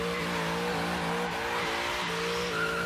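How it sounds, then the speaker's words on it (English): Corvette engine roaring under hard throttle with tires squealing, loud and continuous for a few seconds with shifting revs, no talk over it. "Obviously butchering Tyler's Corvette here"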